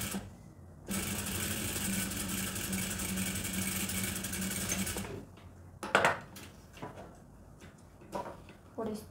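Sewing machine stitching a seam on a women's blazer, a fast steady mechanical hum and rattle for about four seconds, followed by fabric handling clicks and someone speaking Spanish.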